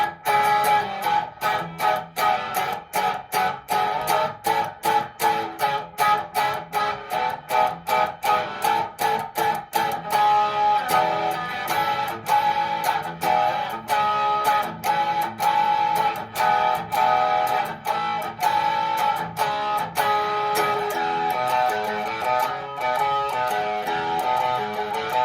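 Electric guitar playing the chorus of a song, rhythmic strummed and palm-muted chords with a crisp, slightly distorted tone, steady and close throughout with no talking.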